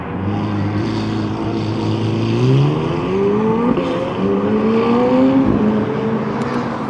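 A McLaren Senna GTR race car at Sonoma Raceway, loud and close, its engine note rising steadily through successive gear changes as it accelerates past.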